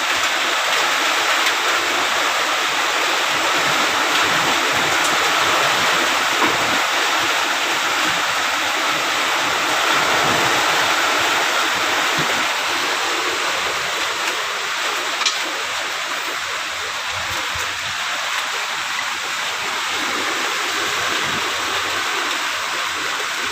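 Typhoon floodwater rushes into a house near the bathroom, a steady, loud broadband roar of flowing water that continues without a break.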